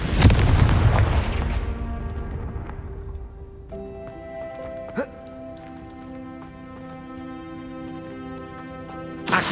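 Confringo blasting spell in Hogwarts Legacy, a loud booming explosion at the start that decays into a long ringing magical shimmer, with a sharp crack midway and another burst at the end.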